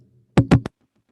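Three sharp, hard bangs in quick succession, close and loud, like something struck against a microphone to mimic a rattling muffler, then near silence.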